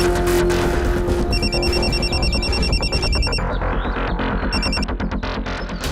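A telephone rings in repeated electronic bursts over loud, busy background music or noise, the ring pattern pausing and resuming.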